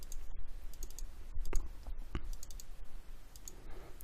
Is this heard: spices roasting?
no